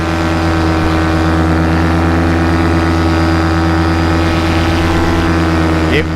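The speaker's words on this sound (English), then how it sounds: "Oh, I just had an engine out." A vehicle engine drones steadily and loudly throughout, with a brief pitch change near the end as it falters and catches again, outdoors in a muddy, flooded setting.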